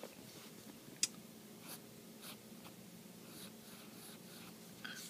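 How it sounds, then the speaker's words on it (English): A Wahl-Eversharp Skyliner 50 fountain pen scribbles lightly across paper, making a faint, continuous scratchy rustle with a few soft strokes and a single small tick. "I'm just trying to scribble along as I normally would."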